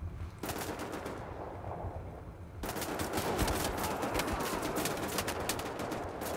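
Rapid bursts of gunfire aimed at a staircase in the first-person shooter Wolfenstein: The New Order, starting after a brief lull and then continuing densely and loudly until the end, with no talk over it.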